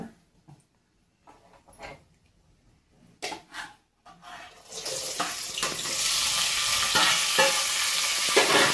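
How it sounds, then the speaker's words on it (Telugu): Mustard seeds drop into hot oil and crackle, with faint scattered clinks and taps at first, then a sudden burst of loud, steady sizzling and popping. "అవాలు వేస్తేనే చిట్టుపట్లు ఆడుతుంది అనమాట"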